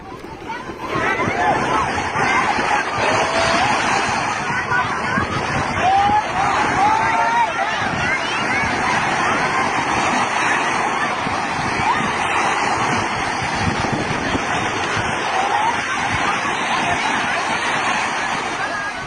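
Ocean surf surging steadily onto a beach at Saeng Chan Beach in Rayong, Thailand, with loud continuous wave wash and wind, and a faint babble of voices underneath throughout.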